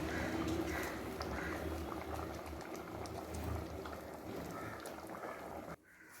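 A pot of fenugreek (vendhaya) sambar bubbles at a steady, vigorous boil close by, a dense continuous gurgle that cuts off abruptly near the end.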